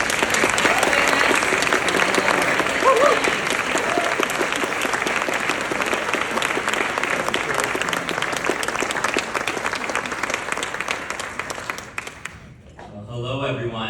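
An audience at an evening Alliance for Catholic Education commencement applauds to welcome speaker Stephen Kurt. The clapping is loud and sustained for about twelve seconds, then fades quickly into near silence.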